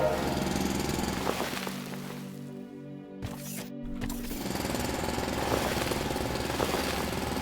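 Continuous loud mechanical drilling grinds away in the factory-building video game Foundry, a harsh rattling machine roar that briefly drops out near the middle before resuming at full strength.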